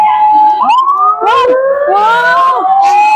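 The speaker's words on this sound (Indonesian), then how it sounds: "ada suara sirine" Toy police siren from a button on a playground panel, a loud, close electronic wail that sweeps up and down through the clip, with a voice or brief chatter breaking in.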